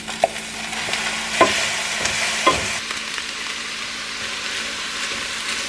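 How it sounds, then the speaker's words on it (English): Chicken and vegetables stir-fry in a hot pan, a steady loud sizzle with a few brief scraping stirs early on, no voices. "Got a little color on the chicken. I'm gonna add all my veggies back in here."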